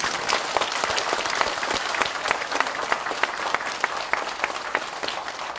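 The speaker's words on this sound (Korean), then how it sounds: "일어나서 크게 박수 한번 보내주십시오" Audience at a special lecture event in Korea gives a long round of applause, dense crowd clapping with distinct sharp claps standing out, steady and fairly loud for several seconds.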